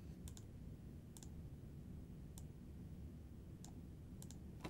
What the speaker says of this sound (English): Now I'm using my arrow keys on my keyboard to go ahead and nudge this down.